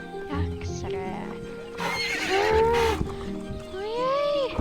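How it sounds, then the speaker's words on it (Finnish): A horse in the video game Star Stable Online neighs and whinnies loudly several times, with rising and falling calls, mixed with clip-clop hoofbeats and other game sounds. "Oi ei! Heppa meni villiksi!"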